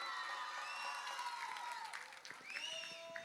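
Audience applause and scattered cheering fill a hall at a Kerala Samajam annual day cultural celebration, a dense, steady clapping wash with some tonal sounds over it that dips briefly before picking up again.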